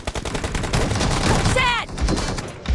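Rapid bursts of gunfire from a mobile shooter video game, loud and continuous with shotgun-style blasts, mixed with game voice callouts.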